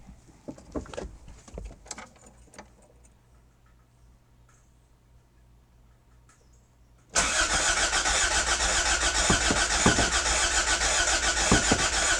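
A Toyota MR2 engine cranks and catches loudly during a fuel pump check, preceded by a few seconds of quiet ticking and small clicks, then a sudden steady, close, full-bodied running roar that continues to the end.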